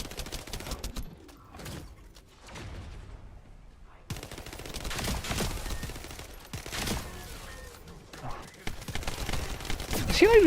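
Rapid video game gunfire from Destiny 2 crackles in bursts and sustained volleys, fairly loud and dense, with breaks between bursts and a game soundtrack and effects mixed underneath.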